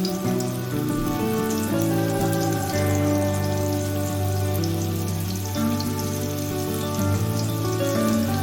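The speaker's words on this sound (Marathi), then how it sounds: "आता पिठामध्ये घोळवलेले मासे तव्यामध्ये शालो फ्राय करून घेऊया." Flour-coated Mandeli fish shallow frying in hot oil on a griddle, a loud dense crackle that runs steadily throughout under some tonal background music.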